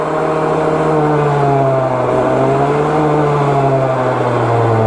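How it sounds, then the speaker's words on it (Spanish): A Derbi FDS motorcycle engine revs steadily in fourth gear, a loud, continuous droning note that rises slightly and holds through the whole stretch, with no voices over it. "Ya está en cuarta la moto."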